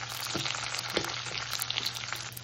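Cashews frying in oil in a pan, a steady close hiss and sizzle throughout, with a couple of faint soft stirring knocks and no voices.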